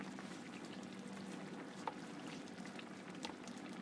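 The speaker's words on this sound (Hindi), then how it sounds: "ये देखिए यहाँ पर हम घी डालेंगे कम से कम 2 से 3 टीस्पून।" Ghee goes into a pan for a masala gravy, a steady soft bubbling hiss with faint liquid trickling and an occasional small tick, close by and without talk.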